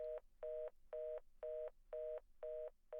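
Telephone tone from the Silent Hill 3 video game on a disconnected phone: seven evenly spaced electronic beeps in a steady on-off rhythm, clean and close, with no voices.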